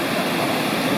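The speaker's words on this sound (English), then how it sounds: "Huntfish Falls there, and amazing waterfalls everywhere here" Huntfish Falls in the Lost Cove wilderness makes a loud, steady rush of falling water. The roar is broad and continuous and fills the whole moment.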